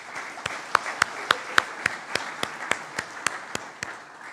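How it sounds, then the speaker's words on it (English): Applause at a university honors college graduation ceremony, heard as a steady run of evenly spaced claps, fairly close and clear. "So please give them a round of applause."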